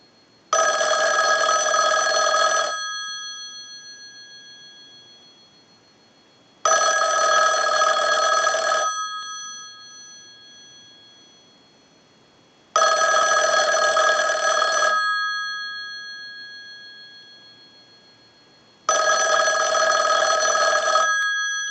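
The bell of a Western Electric 554 rotary wall telephone rings in four long bursts, each about two seconds, with silent gaps between and a fading shimmer after each ring.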